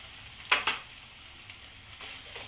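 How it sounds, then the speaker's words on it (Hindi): Chunks of jackfruit go into a pan of fried onion, ginger and garlic, giving a couple of sharp sizzling bursts that settle into a soft, steady frying hiss, with no talking. "प्याज, अदरक लहसुन अच्छी तरह भून चुका है। इसमें मैं कटहल डाल रही हूँ।"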